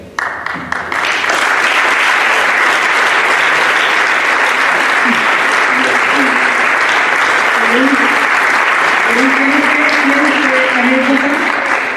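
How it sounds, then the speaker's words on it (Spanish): Loud, sustained applause from an audience at a medal ceremony in Jaén, a thick continuous roar of clapping that starts abruptly and stays strong throughout, with faint voices mixed underneath. "otro fuerte aplauso para él"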